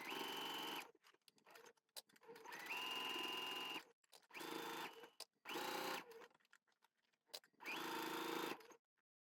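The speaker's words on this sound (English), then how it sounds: "back through the machine for a second pass, and this time you'll be sewing here." A sewing machine runs a second pass of stitching on woven fabric near a neckline, whirring in several bursts of a second or two with short quiet pauses between them.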